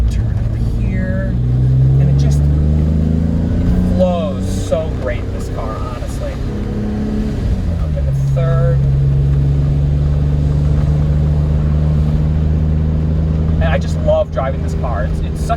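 A 1991 BMW M5 engine pulls steadily from inside the car while driving, its note dropping and rising as the driver downshifts into second; someone talks over the engine throughout.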